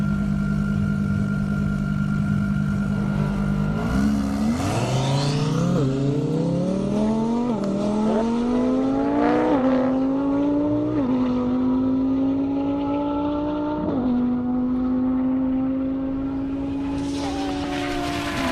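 A 1,300 horsepower Lamborghini Huracan drag racing down a half-mile airport airstrip, its engine roaring loud and close as it revs through a rising run of upshifts, each gear change dropping the pitch before it climbs again.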